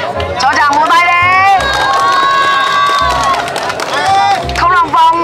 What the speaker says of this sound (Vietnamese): Cho chàng vỗ tay đi.